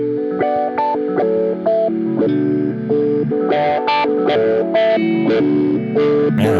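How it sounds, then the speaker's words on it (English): A Thermae delay pedal's hold function lets repeats run away, stacking a loud, continuous wash of echoing guitar notes that pile up and smear into one another, swelling slightly toward the end with no talking. "So if I press this, it'll the delay will start running away."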